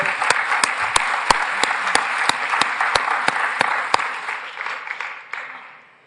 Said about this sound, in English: we should start by really giving them a round of applause